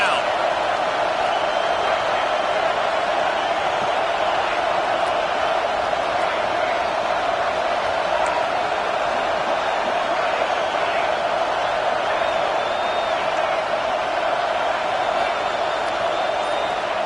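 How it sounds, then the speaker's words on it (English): A stadium crowd roars steadily for the defense on a football 3rd down, a dense sustained wall of cheering and noise that stays level throughout, with a commentator talking over it. "Decibels rising as the crowd gets behind this defense on 3rd down."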